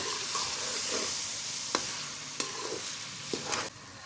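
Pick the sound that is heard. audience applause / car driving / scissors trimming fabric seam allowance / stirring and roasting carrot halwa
stirring and roasting carrot halwa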